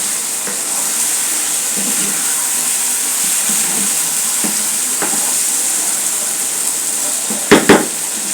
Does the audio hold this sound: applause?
no